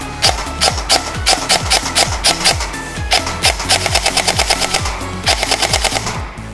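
A G&G ARP556 airsoft rifle, a compact AR-style gun, fires on a 7.4V battery in quick mechanical bursts of rapid clacking shots, loud and close, with a brief pause before the final burst.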